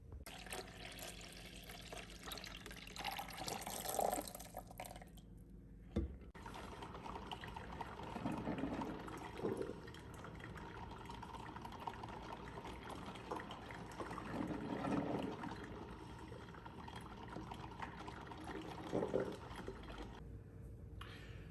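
Mr. Coffee and Black & Decker 12-cup programmable drip coffee makers brew, giving a long, steady trickle and gurgle of hot water filling a carafe, faint and continuous with small surges throughout.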